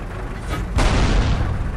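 A tank cannon fires in the World of Tanks 2 video game, one loud deep boom rolling out after a brief buildup of noise.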